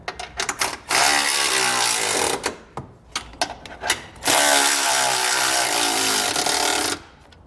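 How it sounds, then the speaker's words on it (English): A 16mm socket ratchet tightens factory bolts for a Roadmaster crossbar-style base plate on a 2021 Jeep Wrangler, giving two long bursts of rapid, buzzing ratchet clicks separated by a few short handling noises. "we're going to tighten the 2 factory bolts using a 16mm socket"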